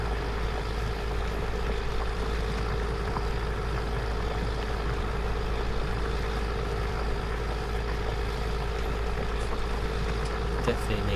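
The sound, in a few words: tractor engine in video game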